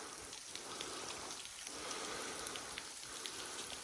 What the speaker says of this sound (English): going downstream right there.